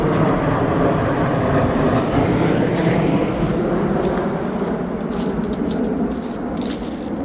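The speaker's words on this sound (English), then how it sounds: "There's another plane up there" Near O'Hare Airport, a plane flying overhead makes a broad continuous roar that fades slowly over several seconds, heard from woods outdoors.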